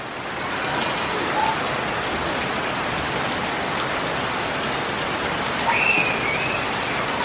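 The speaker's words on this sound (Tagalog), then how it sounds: "bigla naman lumakas ang ulan" Heavy rain pours steadily in a dense, even hiss with no letup, with a faint bird call briefly above it.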